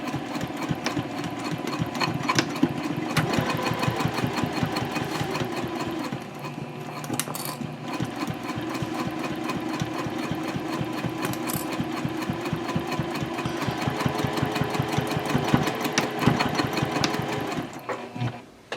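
A sewing machine runs steadily for a long stretch, top stitching along the top edge of a Swoon Frankie handbag tote at stitch length 3.0. It makes a close, continuous rhythmic whir with small mechanical clicks and barely slows.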